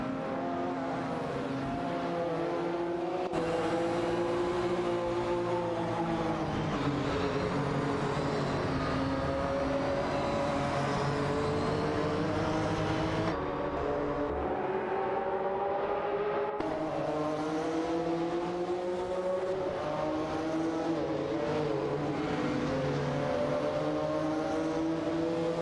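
Race cars in a video game, including a Porsche 911 GT1 and a McLaren F1, roaring continuously as their engines rise and fall in pitch through gear shifts, several cars close together with no talk.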